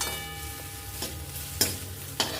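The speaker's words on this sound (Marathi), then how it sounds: "कांदा चांगला परतवून घ्यायचा पहिला" Onion sautéed in a hot pan for fried rice, with a steady close sizzle and a few sharp scraping stirs of the spatula, no voices.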